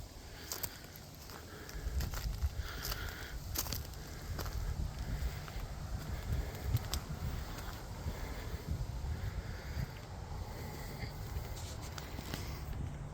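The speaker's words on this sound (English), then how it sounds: "It's windy today, but it's not too bad." Gentle wind blows outdoors with a soft, steady rustle, punctuated by occasional faint clicks and knocks nearby.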